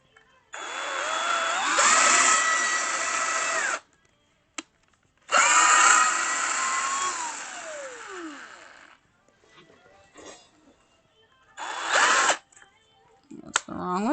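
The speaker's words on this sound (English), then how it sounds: "let's do this side while I'm here pre-drilling." A power drill pre-drilling holes in wood, running in three sustained whirring bursts with the pitch shifting under load, separated by short pauses and small knocks, close and loud.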